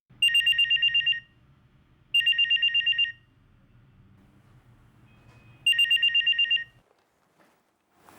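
A telephone rings in three loud, clear bursts of rapid trilling bell tones separated by pauses, with a quiet low hum underneath and no talking.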